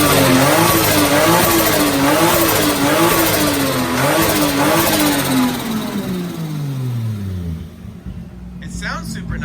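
Toyota JZ engine revving in a car, a loud sustained roar that rises and wavers, then drops as the revs fall away, followed by a few brief quieter sounds at the end.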